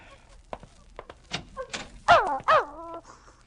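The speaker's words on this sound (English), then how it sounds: "Let the dog in." A dog whimpers and gives short yelps in a radio suspense drama, several brief whines rising near the end, close and clear after some soft thumps and movement.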